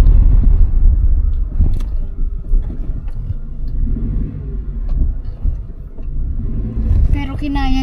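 A car grinds uphill over a rough road, its engine a steady low rumble with bumps and knocks from the surface, while people talk inside.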